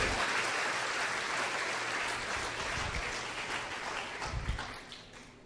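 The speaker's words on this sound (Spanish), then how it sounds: "¿Cuántos pueden darle un fuerte aplauso al Señor para que los que están dormidos empiecen a despertarse?" A church congregation gives the Lord loud, sustained applause that fills the room and tapers slightly toward the end.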